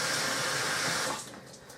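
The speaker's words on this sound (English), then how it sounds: "Let me wash my hands off." Tap water runs steadily from a faucet over hands at a kitchen sink while preparing a ham and cheese quiche with hashbrown crust, loud and continuous before easing off as the flow is cut near the end.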